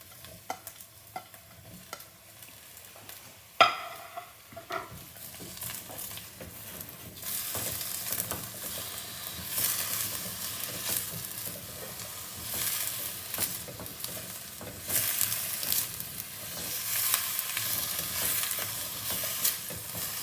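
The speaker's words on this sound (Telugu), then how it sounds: "ఇందులో నేను ఫస్ట్ క్యాప్సికమ్ ఫ్రై చేసుకుంటాను" Capsicum frying in oil in a pan for a gravy curry, a steady close sizzle that swells louder over time, with a few sharp stirring knocks near the start and no talking.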